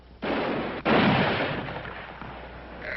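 Gunfire in a Western television drama set in the Old West: two loud, close shots about half a second apart, each a sharp blast trailing off into a long rolling echo.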